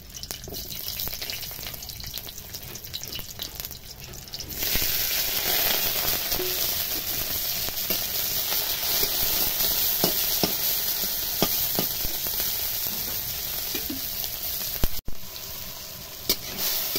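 Chopped garlic and chilli hit hot oil for a taro-leaf dish, with a quieter stretch first and then a loud, sustained sizzle and crackle and occasional stirring taps.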